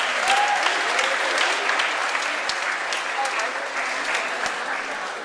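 Students at a new student welcome event applaud mentors and committee members, a steady, even wash of crowd clapping that holds at moderate level and tapers slightly near the end.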